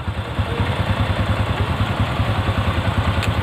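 A motorcycle with a faulty carburetor, its engine chugging in a rough, pulsing low idle close by and struggling under throttle as if about to stall, with no talk.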